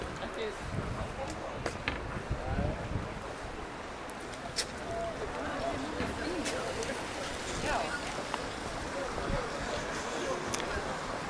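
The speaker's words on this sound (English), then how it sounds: "there's a little bit of wind gushing here. Always wind in Reykjavik" Wind gusts outdoors in Reykjavik during a Christmas walking tour, making a steady, broad roar with buffeting on the microphone and a few sharp clicks throughout.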